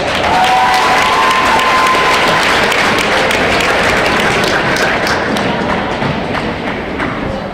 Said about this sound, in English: a round of applause for 2012 runner-up Chateaugay Bulldogs